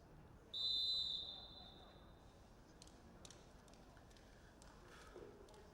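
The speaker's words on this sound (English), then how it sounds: "Referee's blown the whistle." A referee's whistle blows once at a rugby league nines match in Ukraine, a sustained shrill blast that fades, heard at some distance over the faint outdoor noise of the ground.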